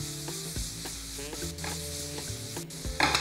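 Shallots sizzle and caramelize slowly in a pan over reduced heat, a soft steady frying hiss with light stirring clicks, with music playing over it.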